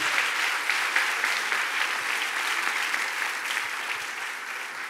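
Steady, dense applause from a crowd, clapping evenly throughout and fading slightly toward the end, with no voices rising above it.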